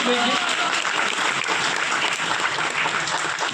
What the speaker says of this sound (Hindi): ताली बजाओ भी इसके लिए